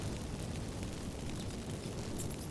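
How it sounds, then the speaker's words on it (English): Magic fireworks from activated incense in The Witcher 3, a dense continuous crackling roar like a rushing eruption, steady and fairly faint with no talking. "Get ready for some magic fireworks."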